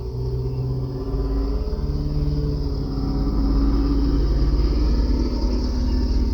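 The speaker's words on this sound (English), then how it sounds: "did you just hear the FedEx truck go by?" A FedEx delivery truck rolls past outside, a steady low engine rumble that swells slightly as it passes and stays continuous throughout, with no talking.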